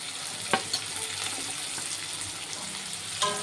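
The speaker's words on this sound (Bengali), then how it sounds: "পেঁয়াজটাকে একটু ভেজে নেব।" Onions and chopped green chilies fry in oil, a steady close hiss of sizzling with a few sharp scrapes of stirring near the start and end; no one speaks.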